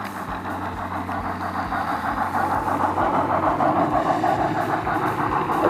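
Model train running on a layout, rumbling steadily through a tunnel after crossing a wooden trestle, with a continuous close mechanical drone and faint rhythmic clicks of wheels.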